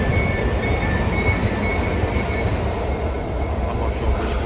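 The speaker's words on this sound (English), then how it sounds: "passing by, just next to it is a class 387 dual to Reading Train Care Depot" A Class 387 electric train runs past on the Great Western Main Line at Acton, a loud, continuous rumble and rail roar with a faint high whine, steady from start to finish.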